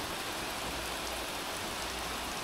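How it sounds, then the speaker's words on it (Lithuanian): Steady rainfall outdoors forms a dense, even hiss throughout, with no voices present. "Lyja."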